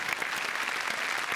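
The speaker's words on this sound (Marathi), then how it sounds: "जोरदार टाळ्या मृण्मयी गोडबोलेसाठी झाल्या पाहिजेत" A large theater audience applauds to welcome a film's cast onto the stage. The applause is dense, continuous and even, with no voices heard over it.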